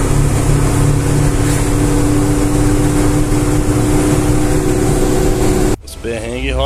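A vehicle engine running on the road, a loud, steady, close drone that holds almost unchanged, then cuts off abruptly before a brief shifting noise.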